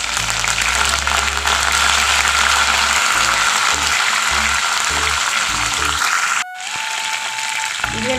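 Crushed garlic and curry leaves frying in hot oil for a dried-fish curry, a steady loud sizzle that runs continuously, drops sharply near the end, then softens under faint clatter.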